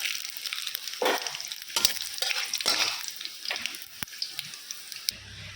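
Panch phoron, dried chillies and bay leaf fry in hot oil, giving a crackling sizzle with sharp pops and the scrape of stirring, close up and without voices.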